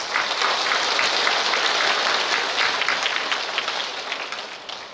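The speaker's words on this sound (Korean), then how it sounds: "주교님께 다시 한번 큰 박수 보내주십시오." A church congregation applauds the visiting bishop after Easter Mass, sustained and even clapping from a large crowd that fills the whole stretch and fades only slightly toward the end.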